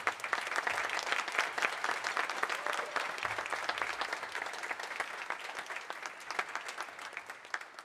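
An audience at a high school steel band concert applauds the guest artist, a steady crowd of many hands clapping continuously at moderate level for the full stretch, with no voices over it.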